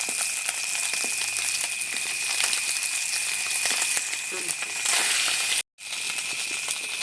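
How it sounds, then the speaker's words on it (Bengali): Two dried red chillies fry in white oil in a wok, a continuous bright sizzle with scattered stirring scrapes, broken by a brief cut near the end. "শুকনো লঙ্কা দুটোকে একটু এভাবে নেড়ে চেড়ে ভেজে নিচ্ছি"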